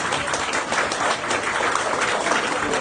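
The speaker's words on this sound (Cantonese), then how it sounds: "我哋俾啲掌聲下 Andrew 啊" A crowd at a wedding ceremony applauds the groom with dense, continuous clapping that stays loud and even throughout.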